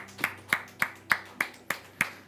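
Hand claps during a church worship service, seven sharp, evenly spaced claps in a steady rhythm, moderately quiet with no voices over them.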